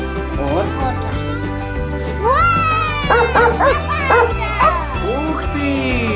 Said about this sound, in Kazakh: Собака ма? Собака.